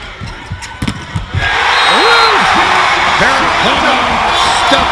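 A volleyball arena crowd during a Hawaii match suddenly erupts into a loud, sustained roar of cheering that carries through the rest of the moment, with sharp squeaks and thuds from the court beneath it.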